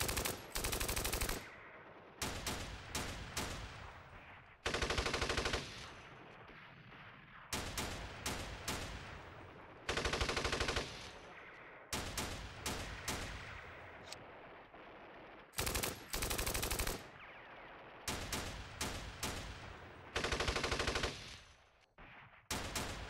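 Squad-directed gunfire in Steel Panthers, set in a 1980 Iran-Iraq war battle, rings out as repeated loud bursts of rapid machine-gun rattle and single shots, alternating with short pauses throughout.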